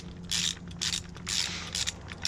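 A ratchet wrench tightens bolts on a steering stabilizer being installed on a Ford Expedition or F-150, giving four distinct bursts of rapid clicking close up with brief pauses between strokes.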